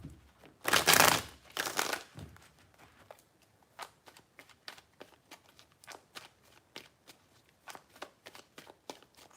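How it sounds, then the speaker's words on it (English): Tarot cards shuffled by hand: a loud riffling burst at the start, then a steady run of short, sharp card snaps and taps, close and fairly quiet, with no talking. "Three shuffles."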